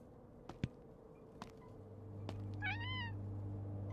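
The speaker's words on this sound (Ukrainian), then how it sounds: "О, знову цей кіт." A cat meows once in a short rising-falling call on a quiet night street in a small Japanese town, close and clear over a low steady hum, with a few faint taps just before.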